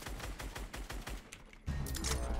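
Rapid repeated shots from a video game firefight, a steady loud automatic burst that swells into a denser, heavier volley near the end, with no voices.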